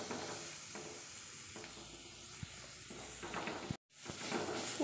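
Chopped tomato sautés in a pan for a Kerala-style crab roast, with a soft, steady sizzle and scattered stirring scrapes and clicks. The sizzle cuts out briefly near the end and then returns.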